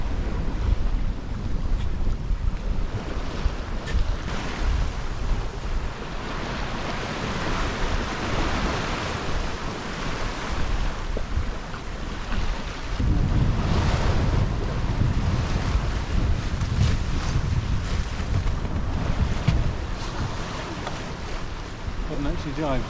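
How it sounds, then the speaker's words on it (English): Sailboat under sail with its engines off off the English Channel coast, continuous wind buffeting the microphone and rushing waves against the hull, with people talking intermittently beneath the noise. "Engines off now and we're actually sailing!"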